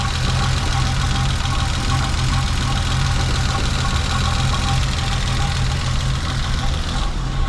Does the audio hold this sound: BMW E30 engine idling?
yes